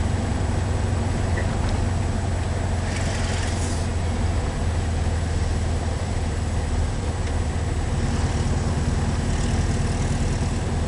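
A 1973 VW Super Beetle's air-cooled engine drones steadily while driving in third gear, a constant low rumble with road and wind noise heard from inside the car.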